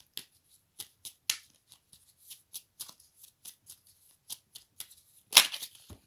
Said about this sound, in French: Alors, une carte s'est retournée, d'autres sont tombées, mais je vais prendre celle-ci.